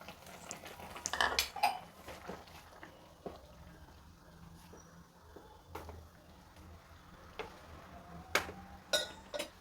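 Semolina (rava) tipped into a pan and stirred over a low flame while making upittu, giving a scatter of light metallic scrapes and clinks against a soft background hum, with no talk.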